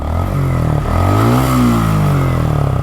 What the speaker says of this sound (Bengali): এভাবে থ্রোটল ঘুরায় বাইকের ইঞ্জিনের সাউন্ডটা শুনবেন